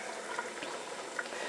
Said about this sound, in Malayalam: ഇതിപ്പോൾ നന്നായിട്ട് തിളച്ച് തുടങ്ങിയിട്ടുണ്ട്.